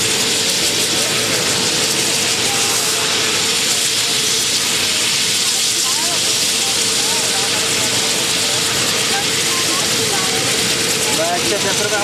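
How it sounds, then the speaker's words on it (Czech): An aircraft engine warming up on the ground at a 2005–06 army event for children, giving a loud, steady roar and hiss that fills the whole stretch without letup. "to tam už zahřívá motor"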